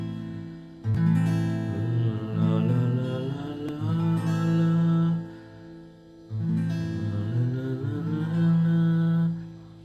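An acoustic guitar strums and lets ring chords for the worship song Days of Elijah, two sustained strummed passages separated by a brief dip, close and clear with no talking.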